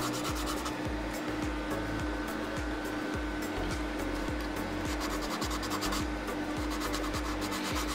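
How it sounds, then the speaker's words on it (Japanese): Rapid back-and-forth sanding strokes on a small plastic part from an F-16CJ scale model kit as burrs are smoothed off, a soft, close, rhythmic rasping over a faint steady hum with no talking. "ちょっと手数ですけどこう磨いてあげます"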